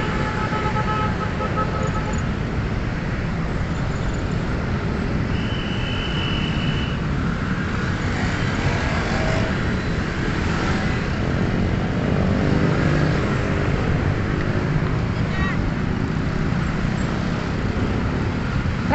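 Street traffic in McKinley West, Taguig: a continuous loud roar of passing vehicles, with a brief horn toot partway through and no voices.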